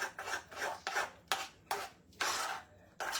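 A spoon scrapes and stirs thick grits in a pot, making quiet rasping strokes in an uneven rhythm, with short pauses between each pass.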